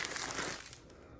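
Plastic packaging crinkles and crunches close up as a ramen subscription box shipped from Japan is opened, a dense rustling burst that thins toward the end.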